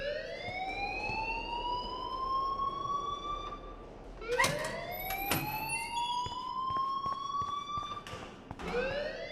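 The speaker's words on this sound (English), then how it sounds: "please turn off that alarm since that's your job" An alarm wails inside a school in Life is Strange, a loud rising and falling siren tone sweeping repeatedly, overlaid with a few sharp clattering hits partway through.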